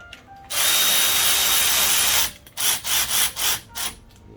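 Power tool tightening the front brake caliper bolts on a 2011 Mazda CX-9: a loud, steady drill-like whir for about two seconds, then a series of short bursts, near and with no talk.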